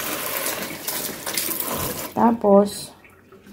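Tap water runs and splashes steadily while cut papaya and taro pieces are rinsed, then the flow stops and a voice speaks briefly in a quieter room.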